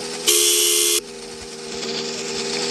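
A single bright vehicle horn in a video game blares for under a second, loud and close, over a steady low engine hum that carries on afterward.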